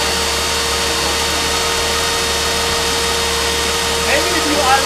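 A Ford 200 2V inline-six engine with a defective head and exhaust leaks idles at operating temperature, a steady, loud, droning hum that runs unbroken throughout, with a slight swell near the end.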